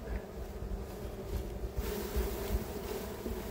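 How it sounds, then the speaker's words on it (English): A steady, low insect buzz hums throughout, like many honeybees swarming close by at an apiary hive box, with no talking. "there's lots of bees left in this box here"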